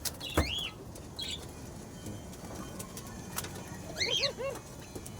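A pigeon near its cage gives a few soft coos and brief calls at close range, with a short burst of wing flapping and light rustling in a quiet setting.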